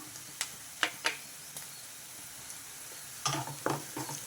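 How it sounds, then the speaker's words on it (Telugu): Onions browning in a pan for mutton spleen curry, with turmeric added, give a quiet, low sizzle broken by several sharp scraping and clinking stirs, busier toward the end, with no voices. "ఉల్లిపాయలు వేగిపోయినాయి ఇప్పుడు కొంచెం పసుపు వేసుకుంటున్నా"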